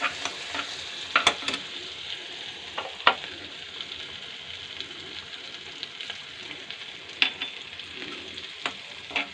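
Spices sizzle in a pan for a dhaba-style egg tarka, with Kashmiri red chilli powder and crushed kasuri methi, a steady close crackle broken by sharper clicks and scrapes of stirring.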